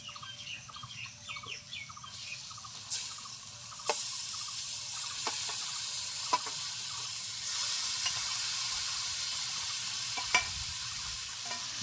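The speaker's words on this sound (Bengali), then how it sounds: "এখন ম্যারিনেট করে রাখা মাংস আর ভেজে রাখা আলু একসঙ্গে দিয়ে দেবো" Marinated chicken and fried potatoes hit hot spiced oil in a pan, giving a steady close sizzle with stirring clatter and a few sharp clinks, no talk.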